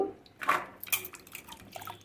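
Rinse water splashes and drips over cauliflower florets in short, faint trickles and a few small patters, close and quiet.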